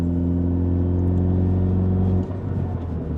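A 2016 Ford Focus ST fitted with a big turbo kit runs loud and close, a steady droning engine tone with whining turbo spool that cuts off abruptly near the end, leaving a lower rumbling idle.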